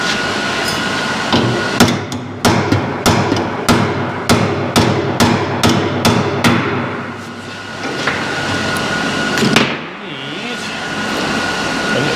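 Sharp metal hammer blows ring out on a rusty car body during rust repair, about a dozen loud, evenly spaced strikes, close and clanging, over a steady background hum, then a pause and scraping.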